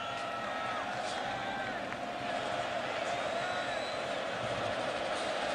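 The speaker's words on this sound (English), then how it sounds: "We've got a sellout crowd, folks, here in Berkeley." Sellout stadium crowd of tens of thousands at the 2006 Oregon vs Cal college football game in Berkeley. A steady, distant roar fills the whole stretch, with faint whistles and scattered voices drifting through.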